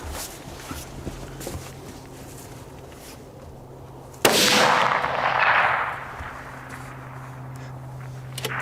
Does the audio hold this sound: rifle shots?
yes